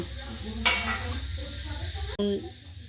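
Metal plates and dishes clink and clatter in a home as a mother sits down to serve rice, with a sharp clatter early and another brief clink near the end, heard under nearby talk and room noise.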